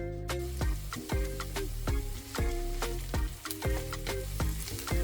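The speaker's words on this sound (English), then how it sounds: "I'm going to saute the onion until they are nice and soft." A large chopped onion sautés in a pan for fried rice, a steady sizzle broken by about a dozen sharp, rhythmic scrapes and clacks of a utensil stirring against the pan, close and with no voices.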